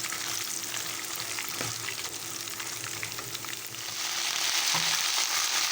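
Pulihora tempering of salted dried chillies and other ingredients frying in hot oil, a steady dense sizzle throughout with occasional soft stirring clinks, growing slightly louder near the end.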